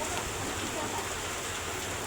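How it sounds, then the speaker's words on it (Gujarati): Heavy rain drums steadily on a tin sheet roof, a dense continuous hiss with wind mixed in, loud and close throughout. "બેક અમારા પતરાનો અવાજ આવે અને બેક પવનનો અવાજ આવે"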